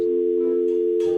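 Steady electronic telephone tone heard while placing a call, a loud continuous hum that fills the whole moment without pause.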